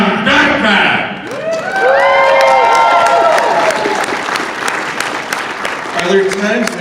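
A convention audience at a talk with a Batman voice actor applauds and cheers, with dense clapping and whoops throughout and a voice speaking over the noise.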